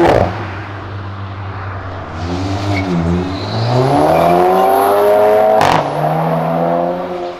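A Citroën DS3 with a stage 4 tune revs up in a rising, climbing engine whine that holds high, then drops with a sharp pop before easing off, loud and close, no talk.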